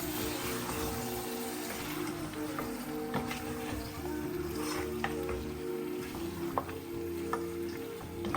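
Beef or lamb pieces frying with spices in a pot for biryani make a steady, busy sizzle. Occasional scrapes and clacks of stirring sound close by, with no talk over them.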